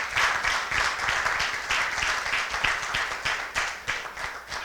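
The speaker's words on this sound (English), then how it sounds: "The trainers and the volunteers deserve our applause and our appreciation." An audience at a tenth-anniversary event on parenting applauds the trainers and volunteers, a close, lively burst of clapping with irregular sharp hand strikes that swells and dips throughout.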